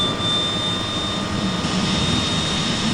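Aircraft engine starting up in the Prepar3D v5 flight simulator, the right engine first: a steady, loud, unbroken roar with a thin high whine held across the whole stretch, and no one talking.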